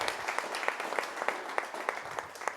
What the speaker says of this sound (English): round of applause for all the speakers we've had throughout the year